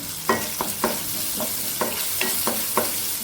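Tomato, onion and curry leaves fry in a pan under a steady sizzle, with about eight evenly spaced scrapes of a spatula against the pan, close and moderately loud, no voices.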